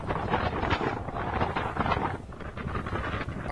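Wind buffets a microphone in the Sahara desert, a steady low rumbling roar with gusty swells throughout, heard alone and close.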